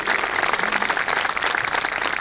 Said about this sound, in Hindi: मुझे खींचकर यहाँ तक लाने वाले अनिल नैयर जी, भाई साहब इनके लिए जोरदार ताली बजाइए।